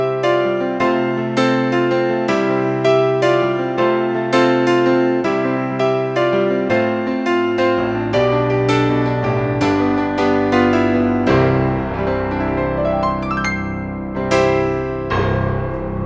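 Piano tone from a Roland RD1000 layered with a Yamaha piano sample, played as steady rhythmic chords with a bass line, loud and close, alone without any voice.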